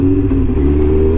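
A Kawasaki ZX9R Ninja sport bike hums loudly and steadily under way, its engine drone holding an even, sustained pitch up close.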